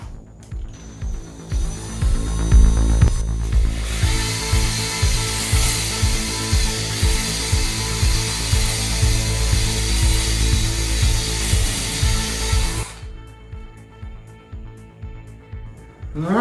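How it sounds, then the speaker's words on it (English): A spinning hone grinds and rasps inside an engine cylinder of a Magnum 360, a loud, continuous, gritty whir with rhythmic pulsing that stops abruptly near the end, leaving a quieter mechanical tail. "it's just kind of important that you keep the hone spinning when you go into the cylinder"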